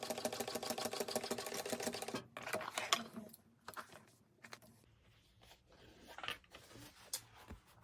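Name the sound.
sewing machine top stitching a bag seam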